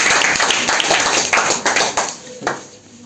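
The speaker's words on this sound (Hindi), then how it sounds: "तालियां।" Students and guests at a girls' Class 10 maths prize ceremony in a coaching centre clap loudly together, a close, busy burst of applause that tapers off near the end.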